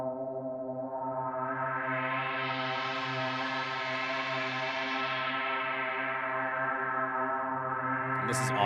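A sustained synth tone drenched in reverb from a reverb pedal, its bright wash swelling and then fading away, ending with a short sharp hit.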